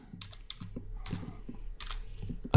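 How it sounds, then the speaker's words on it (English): Keys clack on a computer keyboard while an HTML document's title element is typed into a text editor, a quick uneven run of close, crisp taps with brief pauses between bursts. "I'm going to type in title"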